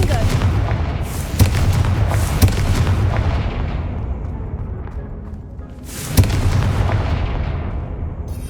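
Confringo fire spell explosions in the game Hogwarts Legacy: booming blasts at about 1.4, 2.4 and 6.2 seconds over a dense rumbling game soundscape with fading crackles.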